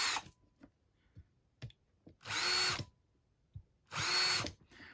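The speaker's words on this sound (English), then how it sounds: "let me drill these 4 holes real quick" A power drill bores holes in a workshop, with two loud, steady whirring bursts of about a second each, separated by quiet clicks and small handling knocks, close and without speech.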